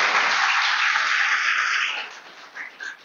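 Church audience at a Good News Church training session clapping hard in a dense, sustained burst of applause that tapers off after about two seconds into a few scattered last claps.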